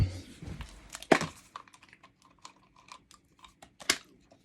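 Someone chews gum close to the listener, with quiet, irregular wet clicks and small crunchy snaps scattered over a few seconds and no talking.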